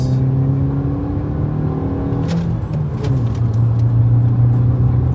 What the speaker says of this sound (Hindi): चलो गाइस 0 to 100 टेस्टिंग कर लेते हैं इसकी।